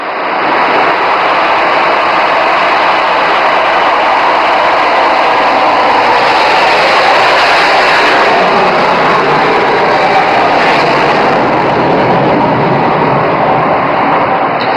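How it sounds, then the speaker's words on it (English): Rafale fighter jet with afterburners engaged at full power, a loud, steady, broadband roar that holds continuously for the whole stretch. "And now the afterburners are engaged."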